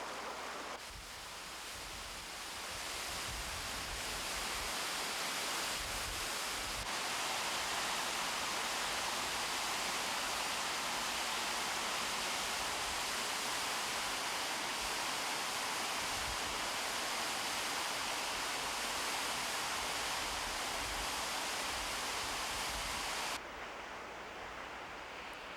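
A Rocky Mountain waterfall fed by snowmelt sends up a dense, steady roar that fills the whole stretch at an even level with no voices.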